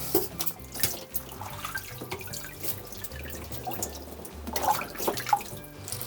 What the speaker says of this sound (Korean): 그리고 찬물에 빨리 식히겠습니다.